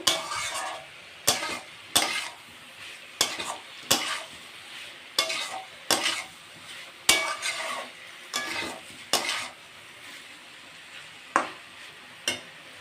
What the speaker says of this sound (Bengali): তো এখন আমি ভেজে রাখা ফুলকপিগুলো দিয়ে দেব। আবারও আমি সুন্দর করে কষে নেব।